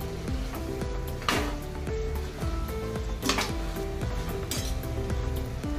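Soya chunks are stirred in a pan with biryani masala and fried onions, a busy run of metal spoon scrapes and clinks against the cookware, close and continuous with no talk.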